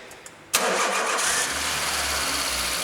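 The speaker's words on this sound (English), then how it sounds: "Start the engine for me, please." A car engine cranks and fires during an MOT topside inspection, a sharp start burst after a quiet moment, then settles into a steady, close idle.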